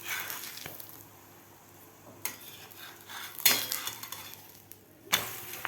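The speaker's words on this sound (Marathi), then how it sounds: "दोन्ही साईडकडून आपल्याला व्यवस्थित धपाटं भाजून घ्यायचं आहे." Dahi dhapate flatbread roasts on a hot pan with a soft, steady sizzle, broken by a few sharp utensil scrapes and clanks as it is turned.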